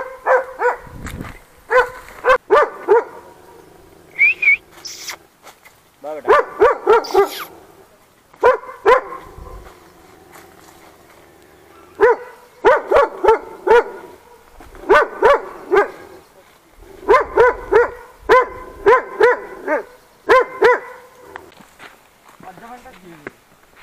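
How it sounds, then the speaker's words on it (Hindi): A dog barks in short repeated bursts, fairly close, in a hillside lychee orchard, with footsteps and people talking between and under the barks. "कुत्ता भौंक रहा भाई"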